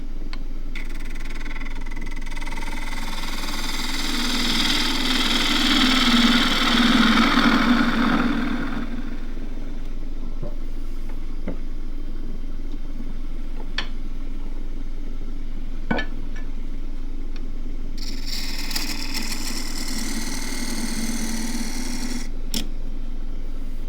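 A wood lathe turns an African blackwood dish while a 3/4-inch continental gouge cuts it. A steady motor hum runs throughout, with a louder rough cutting hiss for the first several seconds and a thinner scraping sound near the end.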